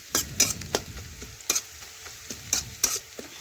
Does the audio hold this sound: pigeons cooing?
no